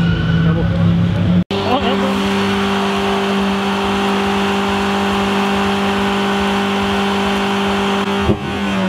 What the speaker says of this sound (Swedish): Så lever man burnout i Vimmerby.